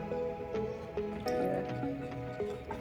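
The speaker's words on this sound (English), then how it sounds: "When you add the milk, you have to stir." Milk poured into jerk chicken pasta is stirred in the pot, giving soft, wet squishing and dripping sounds with faint clinks, low in level against steady background noise.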